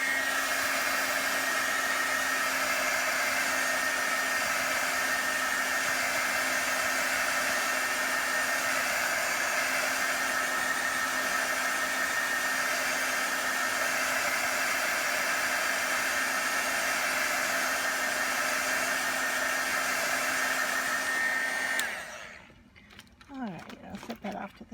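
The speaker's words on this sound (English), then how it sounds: "And so what I might do here is actually use a heat gun tool" A heat gun blows with a steady loud roaring whoosh and a constant whine while drying stamped ink on a handmade card, running continuously before cutting off with some handling noise at the end.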